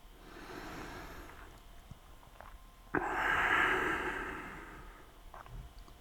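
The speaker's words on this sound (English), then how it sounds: "take another deep breath in and out" A deep breath in and out during a yoga flow, a soft airy inhale followed by a louder, longer exhale, close and unaccompanied by speech.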